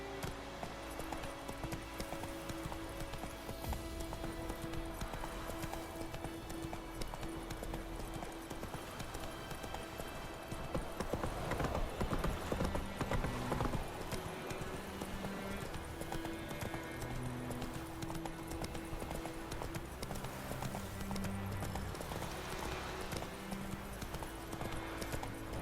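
Roach the horse gallops in The Witcher 3: Wild Hunt, hooves clip-clopping in a rapid steady rhythm over game music and ambience, with a brief louder burst midway.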